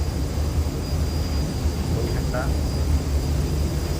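A Boeing airliner leaving Mumbai gives a broad, steady low roar of engines and cabin rumble throughout, with a person speaking briefly over it.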